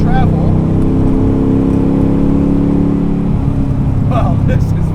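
A Superformance 1965 Shelby Daytona Coupe accelerates with a loud, sustained engine drone that rises in pitch and then shifts, heard from inside the car with a voice speaking briefly over it.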